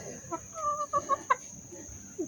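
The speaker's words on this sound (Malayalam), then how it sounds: "ആ കോഴി അതാ പോണ്" A loose chicken in a kitchen gives a quick run of short, nasal clucks at moderate loudness, several bursts close together and then a lone squawk near the end.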